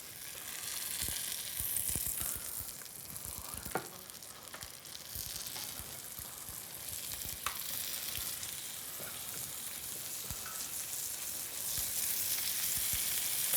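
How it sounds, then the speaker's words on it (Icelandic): Skin-side-down chicken sizzles in butter in a pan, a loud, steady, close frying hiss with scattered crackles and pops, plus occasional scraping of a utensil. "ég ætla að byrja á að steikja kjúklinginn húðina niður"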